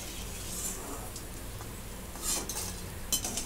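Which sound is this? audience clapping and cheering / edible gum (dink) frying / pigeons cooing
edible gum (dink) frying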